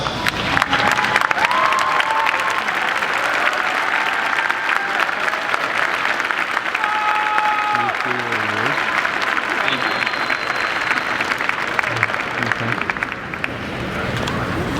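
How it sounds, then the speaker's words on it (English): Graduates at a high school graduation ceremony applaud their parents in a large outdoor crowd, the clapping loud and continuous for about fifteen seconds, with some cheering and shouted voices rising over it. "give your parents and anyone else out there that came to see you a big round of applause"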